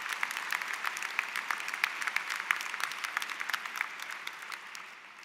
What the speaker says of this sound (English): Big round of applause for our doctoral candidates